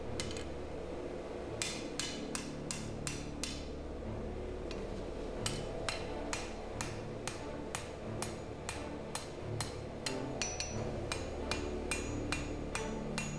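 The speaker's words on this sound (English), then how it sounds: "I'm forging the tip over very lightly" Hammer lightly forging the tip of a steel Viking broad seax blade, a steady series of sharp metallic strikes ringing out at an even pace over a low workshop rumble, with no one talking.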